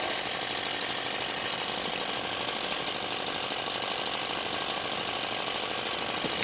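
A small engine on a model helicopter runs continuously with a fast, buzzing, steady rattle and a high whine, moderately close, and no talking over it.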